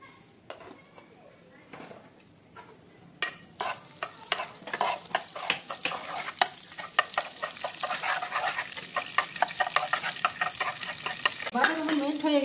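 Butter and white oil in a wok used for roasting cauliflower begin quietly, then break into a steady sizzle with frequent clinks and scrapes of stirring, growing louder toward the end.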